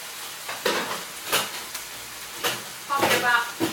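Aubergine goes into a hot frying pan that has been cooking honey balsamic chicken, with several short bursts of sizzling and stirring clatter against a low background hiss.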